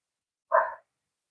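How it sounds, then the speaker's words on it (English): A single short bark from a dog somewhere in the background, a lone mid-pitched yelp in otherwise near silence. "Got Kiwi in the background barking it up."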